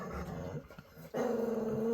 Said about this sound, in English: The other growling you hear is my little Yorkie, who is growling at me for not picking him up.